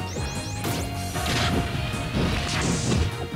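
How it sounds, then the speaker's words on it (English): Rapid crashing hits and whooshing impacts from down smash attacks in Super Smash Bros. Brawl, a tournament match with ROB, sound in quick succession over steady game music. "Joe goes for three down smashes in a row."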